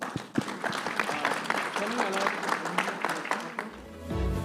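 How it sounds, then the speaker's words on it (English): A live audience claps for the panelists at a climate action event, with a steady stretch of dense applause. A voice briefly speaks over it before the clapping gives way to a low rumble near the end. "give them a round of applause"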